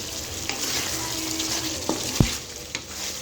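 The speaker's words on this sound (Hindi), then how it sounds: "जब तक ये भून रहा है तब तक साथ साथ आप इसके अंदर चमचा हिलाते रहें ताकि ये नीचे लगे नहीं" Chicken karahi masala frying in a pan with a steady sizzle, while a spoon scrapes and stirs in a few distinct knocks and clinks, close up and alone.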